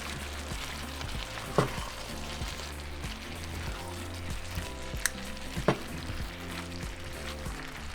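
Steak and potatoes for bistec ranchero are mixed together in a hot pan, giving a quiet, steady sizzle under a background hum, with a few scraping clicks as the spoon turns them.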